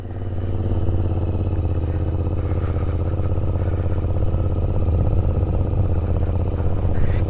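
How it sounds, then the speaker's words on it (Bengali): A motorcycle rides through dense fog on a mountain road toward Sikkim, with a loud, steady engine drone and rattle that continues throughout. "অনেক দিন পরে এরকম ভাবে চালাচ্ছি বাইক"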